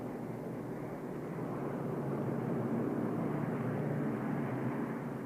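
Obsolete Soviet propeller aircraft fly over the Kremlin, a steady broad engine drone that swells slightly as they pass, with no voices.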